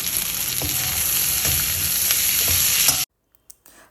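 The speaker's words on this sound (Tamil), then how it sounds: "வெங்காயம் வந்து நல்லா வதக்கியாச்சு பாருங்கள்" Onions fry in a pan with a loud, dense, continuous sizzle and faint stirring ticks, then cut off abruptly into near silence with a few small knocks.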